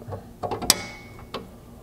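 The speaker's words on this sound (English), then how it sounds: "To tighten that, you should just need a 9/16 socket." A ratchet and 9/16 socket tightening the nut on a 3/8 carriage bolt of a Bronco trailgate plate, a few quiet mechanical clicks and a brief metallic clink.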